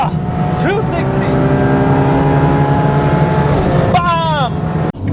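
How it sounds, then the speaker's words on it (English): A Ferrari 812 Superfast's engine pulls hard on the Autobahn, a loud close-up roar with rising harmonic sweeps as it revs up through the gears, while someone talks over it. "You are currently joining me in the Ferrari A12 Superfast, and I'm currently taking it onto the Autobahn to see how it will perform."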